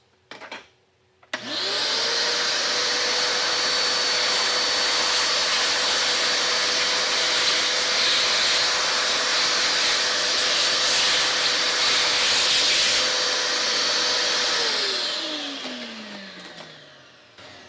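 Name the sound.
vacuum cleaner sucking up drilling debris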